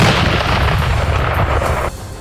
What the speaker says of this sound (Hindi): गोले लोड होते ही उन्होंने जोरदार धमाका कर दिया।